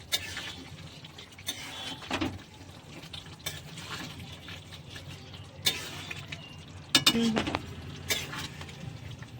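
Goat meat curry being stirred in a pot, with a spoon clinking against the metal several times over a low, steady background, the knocks sharp and close with short gaps between them.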